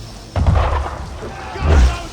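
An enemy ship fires its cannons in Assassin's Creed III. Two deep, rumbling booms roll out about a second apart, each low and heavy with a long tail, with voices faintly present.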